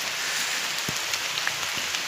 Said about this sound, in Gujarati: વરસાદ વધ્યો બહુ વરસાદ વધ્યો જોઈ લે